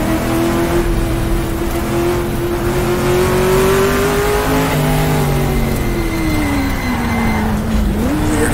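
A 1966 sports racing car in the GTR2 sim at the Targa Florio, its engine droning loudly and steadily close by, pitch easing down gently and rising again as the throttle is fed in cautiously through a tight right-hander, ending with a quick rev blip.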